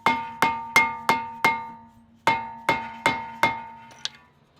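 A metal tool taps a brake rotor on a Subaru STI to free it from the hub: nine sharp, ringing metallic strikes, a group of five then a group of four, each decaying like a struck bell, followed by a small click.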